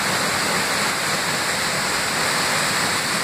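Waterfall at Falls of Hills Creek near the Cranberry Wilderness, a steady, dense roar of falling water that fills the whole clip, loud and close with no pauses.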